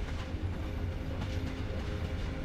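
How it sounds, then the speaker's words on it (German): A steam train on a snowy route rolls past with a continuous low rumble and faint rhythmic clatter of wheels on rails, loud and steady throughout with no voices. "mit einem Pfiff dampft der Zug an ihnen vorbei"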